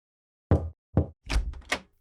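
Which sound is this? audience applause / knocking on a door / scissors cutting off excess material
knocking on a door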